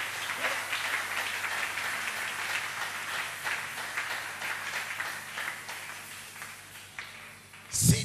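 Congregation at a Sunday church service applauding with steady scattered clapping at moderate distance, gradually thinning, while a low hum continues underneath and a loud burst breaks in at the very end.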